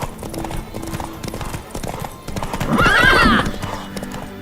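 A mare's hooves clip-clop steadily, then a loud, close neigh rises in the middle, in a dramatized Witcher audio drama set in Velen.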